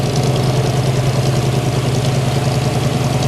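A Polo White 1957 Chevrolet Corvette with a 283 V8 idles steadily up close, a loud, even, low rumble with a fast regular pulse and no voices over it.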